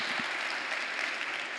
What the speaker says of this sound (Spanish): denle un aplauso al Padre por su misericordia